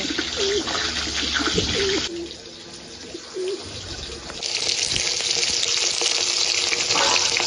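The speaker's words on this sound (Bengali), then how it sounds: "এবার আলুগুলো ভেজে নিচ্ছি" Potatoes fry in oil left over from frying eggs, a loud, steady sizzle that drops briefly midway and returns stronger, while pigeons coo nearby.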